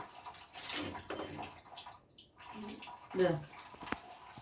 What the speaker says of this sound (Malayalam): വെള്ളം ഒഴിക്കുന്ന കാണിക്കും